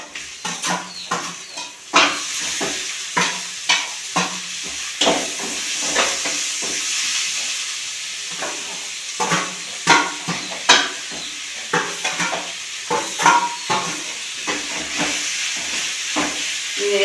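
Onion, ginger, tomato and curry leaves frying in a pot for a chicken curry, a continuous sizzle and steam hiss broken by repeated sharp scrapes and clinks of a spoon against the metal.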